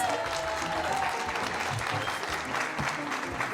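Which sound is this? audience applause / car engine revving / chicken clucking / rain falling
audience applause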